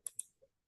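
Two crisp computer mouse clicks close together, followed by a softer tick, quiet and isolated in a silent room.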